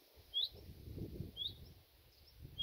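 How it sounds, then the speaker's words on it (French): A bird sings in a vegetable garden among strawberry plants, repeating a short high chirp about once a second over a low rumble of outdoor background noise. "Alors, cet oiseau, je l'entends depuis quelques jours."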